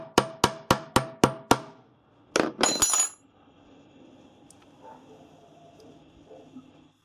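Hammer driving a washing machine bearing into place on a precisely sized mandrel, six evenly spaced sharp metallic blows followed by a tighter cluster of heavier strikes, then quiet workshop handling noise.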